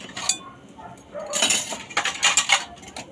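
Dishes being washed by hand, with cutlery and plates clinking and clattering against each other in a few sharp, close bursts and a scrape between them.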